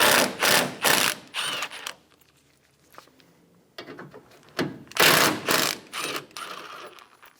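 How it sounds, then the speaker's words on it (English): A ratcheting socket wrench with a 10mm socket loosens the condenser bolts on a 2005-2015 Toyota Tacoma, in quick bursts of clicking separated by a quiet pause, then more rapid ratchet runs. "Using a 10mm socket, remove the two bolts for the condenser."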